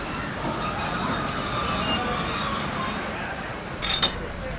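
A nostalgic passenger train crossing Sri Lanka rolls along on its rails with a steady, rumbling clatter. Thin metallic squeals come and go, and a brief sharp knock sounds near the end. The whole scene is fairly faint.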